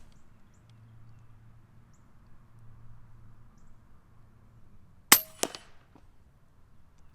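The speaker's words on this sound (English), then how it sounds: "Shooting the first block on the left with a 15-8-9 we just filled up" An FX Dreamline walnut .22 air rifle, freshly filled, fires a JSB Hades frangible hollow point pellet into a test block: one sharp, loud crack and a quick second impact snap over quiet background hum.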